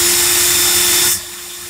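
A power drill runs in reverse with a loud, steady motor whine and hum, close up, then drops abruptly to a lower, quieter whir as it winds down near the end.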